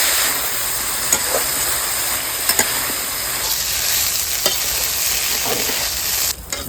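Mixed vegetables frying in a pan with salt, turmeric, green chillies and ginger give a steady close sizzle, with a few sharp clicks of stirring and a brief dip near the end.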